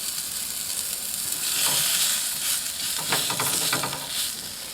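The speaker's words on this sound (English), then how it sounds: "My basic blueberry pancakes and sausage." Blueberry pancakes and sausage fry on a griddle at a campsite, a steady close sizzle with occasional scraping and stirring clicks over a continuous hiss, no talking.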